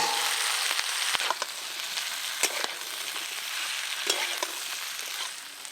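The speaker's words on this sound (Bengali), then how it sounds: "এই দেখুন সবজির সাথে চিকেনের পিস ভালোভাবে নেড়ে নিয়েছি।" Chicken pieces and vegetables fry in a pan for chili chicken while being stirred, giving a steady close sizzle broken by scattered scraping clicks of the spatula, with no talking.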